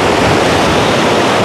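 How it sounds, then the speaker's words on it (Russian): Stormy sea with whitecaps crashes in a loud, continuous roar of surf that fills the whole short moment, with no voices. "Штормящее море с этими белыми барашками."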